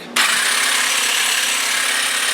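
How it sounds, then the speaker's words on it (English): An old Black and Decker 18-volt cordless hedge trimmer switches on abruptly and runs with a loud, steady, buzzing hum close by, no voices. "hedge trimmer still works"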